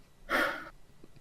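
A person's voice imitates a dog's heavy breathing in one short, breathy huff of about half a second, close and fairly loud, then quiet.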